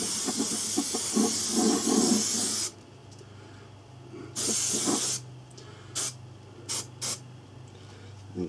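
Spray paint hissing onto a 1957 British Army ammo box, a long steady spray burst followed by several shorter bursts of varying length, close and fairly loud against a low hum.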